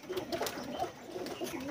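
Soft, repeated cooing of high-flyer pigeons, several low throaty calls in a steady rhythm over a faint background hiss.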